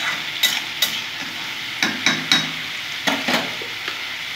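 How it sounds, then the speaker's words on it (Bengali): Ridge gourd and potato with green chilies frying in a pan, a steady soft sizzle broken by a series of sharp spatula scrapes and taps spaced irregularly across the clip, fairly close, with no voices. "কিছুটা আমি ভেজে নেব ঝিঙাটা আলুর সাথে।"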